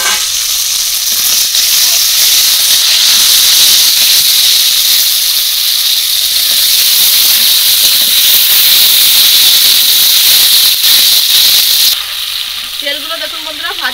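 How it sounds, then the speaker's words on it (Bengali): Pangas fish oil frying in a pan, a loud, continuous sizzling hiss with stirring that holds steady and then drops away sharply near the end. "এর মধ্যেই মাছের তেলটা দিয়ে ভেজে নেব"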